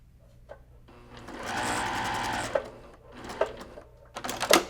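A sewing machine stitches a short seam while piecing a cross-stitch mug rug, running in a few whirring bursts with a long middle run and brief stop-and-start clicks.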